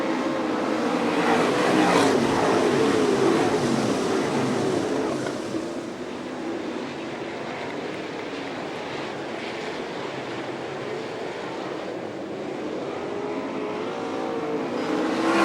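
Sprint race cars at an All Star Circuit of Champions event at Fremont, Ohio, roar loudly together as they accelerate off turn four at the green-flag start, a dense sustained engine blare that eases slightly as the pack moves on.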